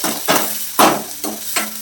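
Chopped onion and green chillies stirred around a hot pan, several scraping sweeps of a spoon over a steady sizzle, loud and close in a home kitchen.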